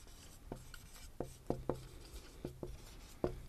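Handwriting with a pen or marker, heard as a handful of sharp taps and short strokes at an irregular pace, fairly faint and close, with no talking.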